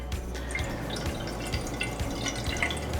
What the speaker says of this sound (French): il faut verser le vin d'une manière constante et régulière,